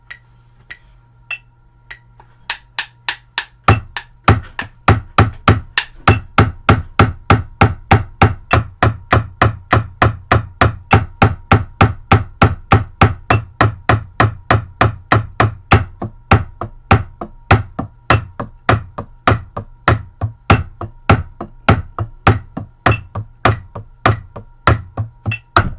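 Drumline exercises played on a single practice drum: sharp, evenly spaced strokes start sparse, then settle into a steady, rapid stream of loud, close hits with accented patterns continuing for over twenty seconds.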